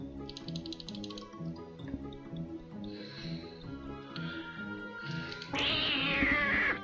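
A cat in the video game Scream Collector meows a few times over a looping, plinking background tune, ending with a louder, drawn-out yowl near the end.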